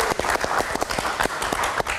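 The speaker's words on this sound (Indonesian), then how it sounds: "Kita kasih tepuk tangan sekali lagi." A live talk-show audience claps once more for guests on a padel-themed show, a brisk, dense burst of applause with individual sharp claps standing out close by.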